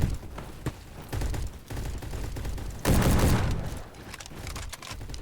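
Automatic rifle fire in the video game Bad Business, rapid bursts of gunshots that start and stop, with one louder, denser volley in the middle and short gaps between bursts.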